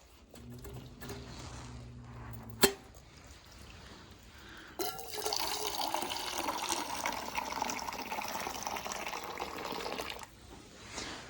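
Water pours steadily into a rabbit waterer on a winter day, a continuous close splashing fill lasting several seconds after some faint clicks and a sharp knock, then tapering off.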